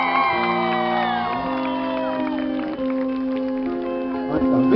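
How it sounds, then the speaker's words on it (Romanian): Concert crowd in Galați cheering, whooping and shouting during a stage presentation of the team, a loud continuous roar with sustained tonal voices and music-like harmonics throughout, no applause clearly separated. "Merită toate aplauzele Bogdan"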